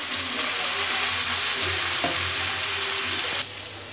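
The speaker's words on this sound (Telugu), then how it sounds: "పుదీనా పచ్చిమిర్చి అన్నీ ఫ్రై అయిందిగా." Mint leaves and green chilies frying in a pan for green-chili chicken curry: a loud, dense, steady sizzle up close with an occasional stir, then dropping in level near the end.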